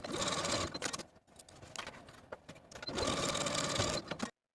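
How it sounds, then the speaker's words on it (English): A sewing machine stitches the bottom edges of facings to a silk dress with a 5/8 inch seam allowance, running steadily in two close, loud bursts separated by a brief pause. "go to your machine and sew the bottoms of your facings to the bottoms of your dress with a 5/8 inch seam allowance"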